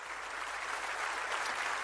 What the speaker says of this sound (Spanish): dale fuerte ese aplauso al Señor, por favor, lo mejor que puedas